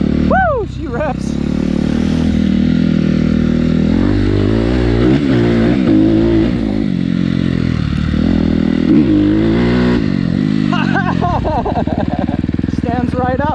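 Suzuki RM-Z250 dirt bike engine revving hard and loud up close, with repeated rising and falling throttle blips, a brief pause midway before another burst of revs.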